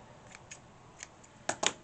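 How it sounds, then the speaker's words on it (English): Scissors snip excess threads off a sewn fabric teabag holder, a few faint isolated clicks followed by two sharper, closer cuts at the end. "I'm just going to trim off some excess threads."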